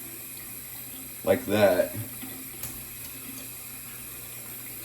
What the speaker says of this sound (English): grab your shaving bowl, and then you're going to put some of the water in